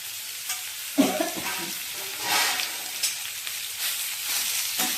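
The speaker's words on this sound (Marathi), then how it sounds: "ही भाजी फोडणीला टाकणार." Potato bhaji tipped into a hot tempering, a sudden burst of sizzle followed by steady frying hiss and several stirring scrapes, close and moderately loud.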